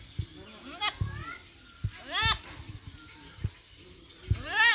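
Black Bengal goats bleating in a village roadside setting, several wavering cries spread across a few seconds, fairly close, with rustling and other farm noises between the calls.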